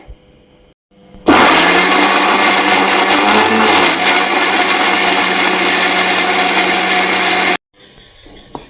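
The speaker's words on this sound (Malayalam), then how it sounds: "അരിഞ്ഞു വെച്ച മാങ്ങ എല്ലാം കൂടെ മിക്സിയുടെ ജാറിനകത്തോട്ട് ഇട്ട് കൊടുക്കാം ഇത് നല്ല പേസ്റ്റ് പോലെ നമുക്ക് അരച്ചെടുക്കാം" A mixer grinder blends chopped mango into a thick paste with no water added. Its loud, steady whir starts abruptly, runs for about six seconds close by, then cuts off into near-silence.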